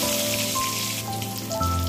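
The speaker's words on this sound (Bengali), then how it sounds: "এবার ডিমগুলো দিয়ে দিব। 1 মিনিটের মতো ডিম ভাজি করে নেব।" Eggs sizzle and crackle in hot oil seasoned with salt and turmeric, a steady close frying hiss with a few brief tonal clinks, and no speech.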